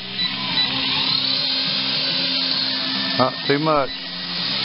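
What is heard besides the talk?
homemade quadcopter taking off, motors running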